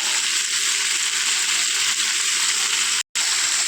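Tomatoes and onions with rock salt sauté in a pan for a curry leaf chutney, giving a loud, continuous hissing sizzle close by with one brief cutout.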